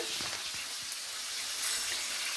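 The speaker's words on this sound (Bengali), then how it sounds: "মাছটা ভেজে নিচ্ছি" A whole fish fries in a pan over a traditional earthen stove, giving a continuous bright hiss and sizzle with faint clinks.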